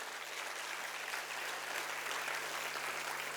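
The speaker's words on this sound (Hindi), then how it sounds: "जोरदार तालियां बजाओ" An audience at a motivational lecture claps steadily, a dense, even wash of applause that holds at the same level throughout, with no voices standing out.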